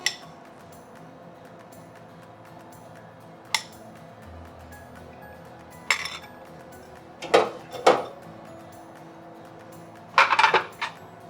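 Pork chops and roasted baby kale being plated, giving a few separate clinks and scrapes of utensils against a plate, sharp and fairly close, with quiet gaps between them and no talking.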